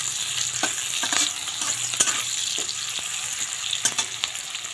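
Banana flower frying in a pan, a steady sizzle with occasional stirring clicks and scrapes running throughout, close and fairly loud, no voices.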